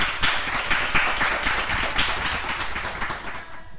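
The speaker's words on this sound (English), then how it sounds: "Another round of applause for Rick and Tasha." A smallish crowd claps for a few seconds, the applause loudest at first and gradually thinning out toward the end.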